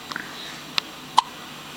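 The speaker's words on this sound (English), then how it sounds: "Baby's first hiccups." A baby hiccups in sharp, brief, isolated pops, four of them spaced about half a second apart, close and clear against a quiet room.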